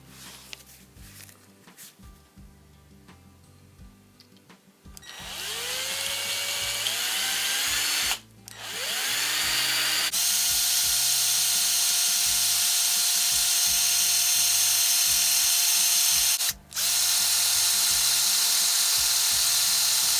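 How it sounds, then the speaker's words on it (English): A power drill bores into factory-fitted shear bolts on an FZS600 motorcycle ignition barrel, starting with quiet handling and then a loud, sustained high-pitched whine that briefly stops twice before resuming close to the microphone. "This is just turning into a drilling out shear bolts video"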